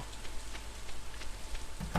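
Steady rainfall in the Stardew Valley farming game, a soft continuous patter with scattered drops, moderately loud and without talk.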